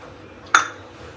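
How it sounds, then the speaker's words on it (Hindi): One bright metallic clink rings out as kitchen pots and utensils are washed late at night, a sharp near hit that fades quickly against a quiet background. "भांडे वांडे धो रही हूँ"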